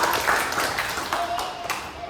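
A group claps together for Petra in an Indonesian classroom or church session, a steady patter of hands lasting a couple of seconds, fairly loud and close.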